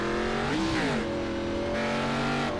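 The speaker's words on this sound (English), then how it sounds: "That sounded like a clutch kick there from Joe Warhurst." A race car in the iRacing simulator at Brands Hatch, a Renault Megane among the field, with an engine note that spikes sharply in revs then settles into a steady high drone, heard alone and moderately loud.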